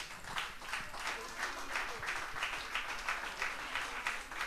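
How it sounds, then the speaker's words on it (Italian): An audience at a dance show's semifinal announcement applauds in a continuous, moderately distant wash of clapping that holds steady throughout. "E un applauso."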